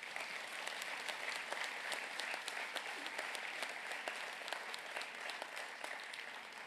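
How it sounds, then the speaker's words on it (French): An audience claps steadily for guests of honour at a formal ceremony, a dense sustained applause at moderate distance with no voices over it. "on va applaudir nos invités de marque"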